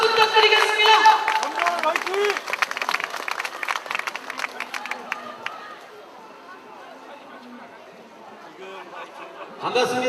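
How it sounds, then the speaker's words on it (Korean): Crowd at an outdoor rally in a public square bursts into loud clapping and cheers to welcome a speaker, the applause thinning out after a few seconds into murmuring chatter before a voice returns at the close. "힘찬 박수 부탁드리겠습니다"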